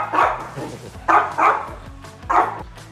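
A dog barks a few times in short bursts, fairly close, with quiet pauses in between.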